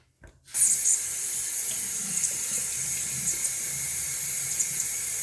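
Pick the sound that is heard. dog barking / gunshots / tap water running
tap water running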